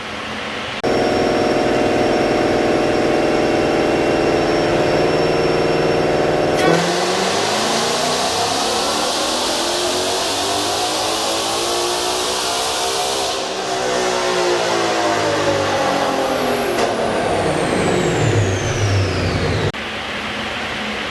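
A 2020 Ford GT500 with a ported supercharger and pulley roars through a dyno pull, climbing in a long, loud, sustained rev after steady running, then cutting off abruptly.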